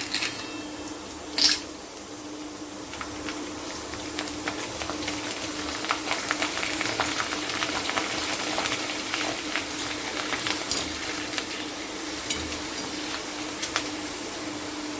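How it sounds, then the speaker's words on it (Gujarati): Bhungla snack tubes fry in hot oil with a continuous fine crackling hiss that stays steady and close throughout, with one brief brighter clink early on. "તેલ આપણું ગરમ થઈ જાય એટલે ભૂંગળા એમાં એડ કરી દઈએ આવી રીતે"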